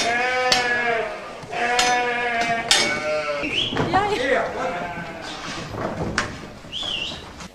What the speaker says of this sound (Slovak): Na farme v Dlhom nad Cirochou chovajú dokopy viac ako 1200 oviec.